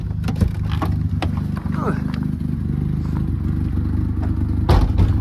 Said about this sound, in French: Ça, on va entendre le ralenti.